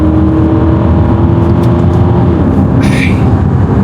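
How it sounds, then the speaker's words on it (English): Aston Martin DBX SUV with a V8 engine accelerating on the road in Kenya, a steady loud engine drone rising and shifting in pitch, with a brief burst of whooshing noise near the end and no talk. "Listen to that V8."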